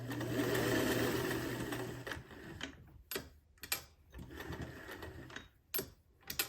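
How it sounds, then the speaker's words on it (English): A sewing machine back stitches fabric at the start of a seam on a teen sling bag, a steady whirring run for two seconds followed by short stop-start bursts of stitching with clicks and pauses between them. "I forgot to back stitch at the beginning last time, so I'm doing it this time"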